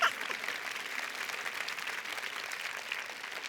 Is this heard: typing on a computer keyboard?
no